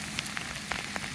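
Rain falls in a steady patter on a property during a rainstorm, with soft scattered drops tapping close by and no voices.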